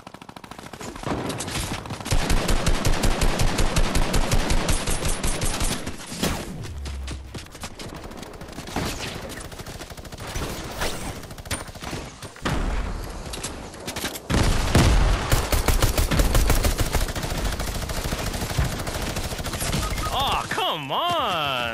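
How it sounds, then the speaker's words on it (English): A Gatling gun in Fortnite fires rapid, sustained bursts of loud gunfire that rattle on and off across the whole stretch, with heavier booming volleys partway through and occasional speech mixed in. "Stupid Gatling gun"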